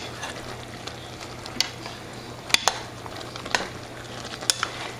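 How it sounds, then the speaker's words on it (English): Hamburger meat and mushrooms frying together in a pan for stroganoff, a steady close sizzle broken by several sharp clicks and scrapes of a utensil, without any voices. "the mushrooms are cooking down nicely"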